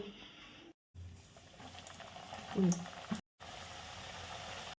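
Pieces of matri dough deep-frying in hot oil at home, a steady bubbling sizzle with a brief louder burst midway, broken by two short silent gaps.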